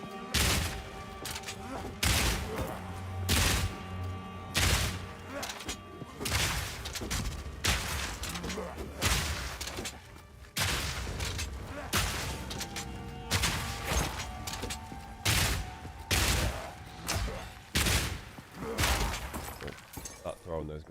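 Repeated grenade explosions in the video game Path of Exile 2, sharp bursts and crashing blasts coming at an irregular, fairly steady pace through the whole stretch, loud over a layer of game sound and talk.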